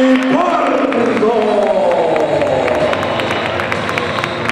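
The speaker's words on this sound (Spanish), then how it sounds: "Fortísimo aplauso tanto para Manny Porto y para este." At a boxing event, the crowd breaks into loud applause and cheering for boxer Manny Porto after a unanimous points decision, with a rising babble of voices throughout.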